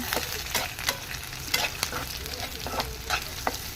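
Hot oil sizzles loudly in a pan while cooking beetroot palya, with repeated scraping stir strokes of a spoon against the pan at an irregular rhythm, close up and without speech.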